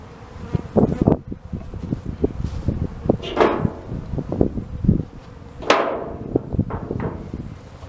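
Honey bees from a dumped package swarm and buzz steadily while being fed sugar syrup, with sharp close passes, occasional thumps and handling knocks, and no talking.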